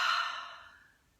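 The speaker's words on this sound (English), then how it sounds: "So deep breath." A single deep breath, drawn and then let out as a long, airy sigh that starts strong and fades away over about a second, close and alone.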